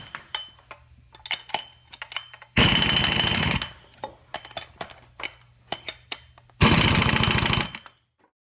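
Two loud impact-wrench bursts, each about a second long, tighten bolts on a Nissan 240SX driveshaft coupler. Between them come small metallic clinks and taps of tools and hardware, with a low steady hum underneath.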